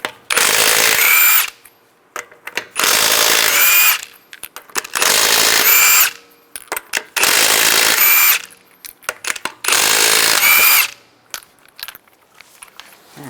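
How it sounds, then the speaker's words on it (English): Power tool spinning a 22mm socket to remove lug nuts from a Dodge Durango wheel, in five loud bursts of a second or so each, separated by short pauses filled with faint clicks and handling noises. "We're going to take the lug nuts off, use a 22mm socket."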